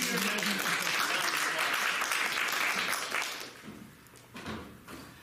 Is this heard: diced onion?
no